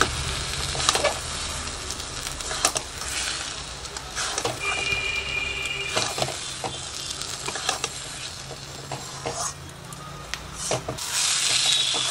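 Red lentils sizzling in a pan as they are sautéed for masoor dal, a steady frying hiss broken by repeated scraping and stirring strokes of a spatula against the pan.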